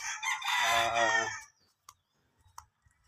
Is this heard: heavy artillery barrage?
no